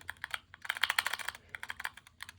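Rapid, close keystrokes on a Wooting 80HE keyboard with smooth keycaps, clattering in two dense bursts separated by a brief pause, with no voices.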